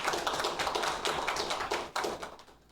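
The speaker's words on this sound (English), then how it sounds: "I'd like everyone to just give a round of applause for that" A small crowd claps at the unveiling of a scanning electron microscope at a Home Affairs lab, a dense patter of hand claps held steady for a couple of seconds and then thinning out and fading.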